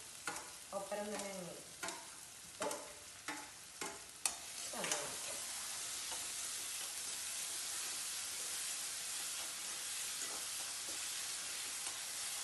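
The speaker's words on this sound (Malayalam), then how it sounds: "എണ്ണ ചൂടായിട്ടുണ്ട്, അതിലേക്ക് സവാള ഇടും. സവാളയും ഇഞ്ചിയും പച്ചമുളകും എല്ലാം ഒപ്പരം തന്നെ" Onion, ginger and green chili hit hot oil in a pan with sharp stirring clatters early on, then settle into a steady, dense sizzle that continues alone for the rest of the clip.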